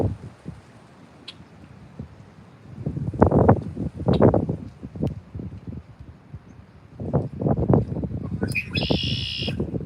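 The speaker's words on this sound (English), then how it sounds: "Love all the sounds of these birds, man." Birds call outdoors on a rainy day by fishing water, with scattered chirps heard through rustling and a voice talking nearby.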